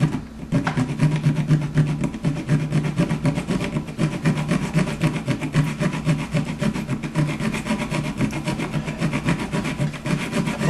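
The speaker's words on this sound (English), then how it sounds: "I'm just taking this hacksaw blade and grabbing it with my gloves. I'm just gonna saw that nail off." A hacksaw blade, held in gloved hands, saws through a nail in an electrical outlet box with quick, short strokes, giving a steady, loud rasping scrape close up and unbroken throughout.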